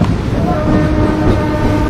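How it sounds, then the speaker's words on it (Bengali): An express train runs at speed on the new Kolkata to Digha service, a loud, continuous low rumble and rattle heard from onboard with no break across the moment. "একটা এক্সপ্রেস ট্রেন চলছে, দেখো একটা ট্রেন চলছে, দেখো এক্সপ্রেস ট্রেন"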